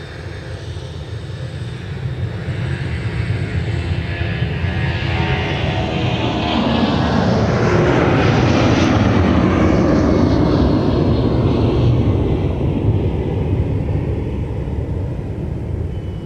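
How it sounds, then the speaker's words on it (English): A Delta Boeing 757 bound for Reykjavik takes off from runway 30 left at Minneapolis–Saint Paul airport, its jet roar swelling steadily to a loud, sustained peak with a sweeping pitch shift as it passes, then holding strong. "Delta 260 is about to get out of here for Reykjavik with a 757. And here it goes off runway 30 left."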